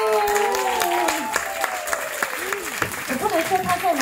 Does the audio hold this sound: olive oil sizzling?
no